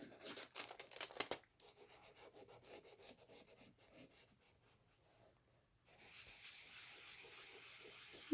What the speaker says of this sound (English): So just a little bit of sanding.